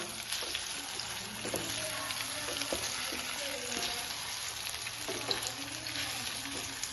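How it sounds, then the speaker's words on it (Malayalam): Banana pieces sautéing in a hot pan for a dessert, giving a soft, steady sizzle with occasional faint stirring clinks, fairly quiet and unbroken. "പഴം നല്ലോണം ഒന്ന് വാട്ടിയെടുക്കാം"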